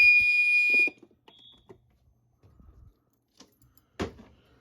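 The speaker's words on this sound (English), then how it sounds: "I really like those type of alarms" Security system alarm going off during a system test, a loud high-pitched piercing tone for almost a second that cuts off, followed by scattered faint clicks and rustles.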